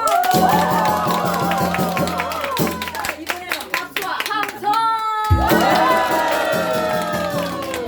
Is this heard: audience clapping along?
yes